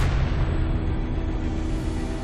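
A deep, sustained rumbling roar fills the whole stretch, loud and steady like a continuous explosion or blast, with no talking.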